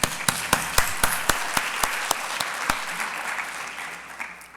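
Scattered applause at a college of medicine awards ceremony, a few distinct sharp claps at the start building into a thin, fading patter from a small audience.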